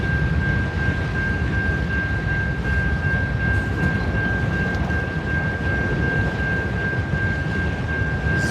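A freight train hauling auto rack cars rolls past a crossing, giving a loud, steady, dense rumble of wheels on rail throughout, with a sustained high squeal from the wheels and no voices.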